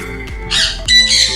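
Exotic parrots in a breeder pair setup in Karachi give two loud, harsh squawks in quick succession, close by with no talk over them.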